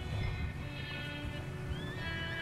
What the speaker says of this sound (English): Slow your horse down.